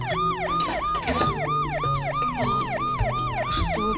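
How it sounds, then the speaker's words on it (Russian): Emergency vehicle siren with a rapid wailing up-and-down sweep, loud and steady throughout over low traffic rumble, as an ambulance speeds past with flashing lights. "Наверное, скоро так на мигалках быстро едет."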